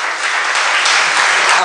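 A church congregation bursts into steady, dense applause, loud and close, with a continuous wash of many hands clapping at once and no talking over it.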